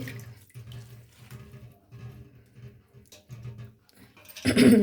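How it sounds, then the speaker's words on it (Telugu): Prawns are rinsed in water by hand, with soft rhythmic sloshing and swishing close by, ending in a louder splashing rush of water. "రొయ్యలు కూడా 2-3 సార్లు కడిగి శుభ్రంగా ఇసుకుండిద్ది కాబట్టి నీట్గా కడిగేసి పెట్టుకోవాలి"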